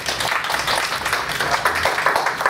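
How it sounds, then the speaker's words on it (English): Steady audience applause for a speaker at a talk on green jobs and community development, a dense wash of clapping throughout with no pauses. "let's give her a round of applause"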